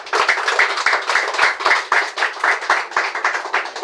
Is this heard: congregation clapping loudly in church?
yes